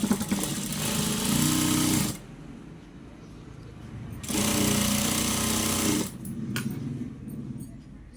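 A sewing machine stitches a double-folded petticoat hem in two close, loud bursts of about two seconds each, with a softer mechanical hum between and after them.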